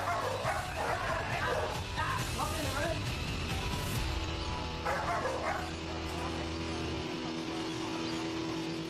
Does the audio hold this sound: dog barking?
yes